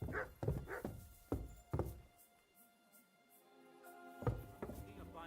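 A dog in the video game Kingdom Come: Deliverance II gives several quick, fairly close barks, falls quiet for about two seconds, then barks a few more times.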